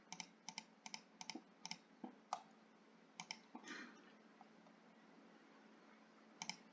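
Sharp mouse and keyboard clicks land in irregular bursts, some in quick pairs and triplets, with a brief rustle midway and a long quiet stretch before a few final clicks. They sound close and fairly quiet, with no voice.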